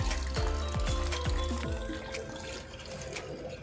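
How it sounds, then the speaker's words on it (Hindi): Water gushing and splashing steadily, close by, a continuous noisy pour with gurgling bursts early on that settle into a smoother flow. "तो पानी निकल रहा है"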